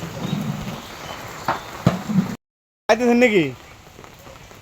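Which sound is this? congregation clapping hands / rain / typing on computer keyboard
rain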